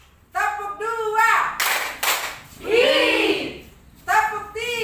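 A group of primary school teachers plays a hand-clapping pattern game, with two sharp, crowded claps in quick succession framed by lively voices speaking and calling out before and after.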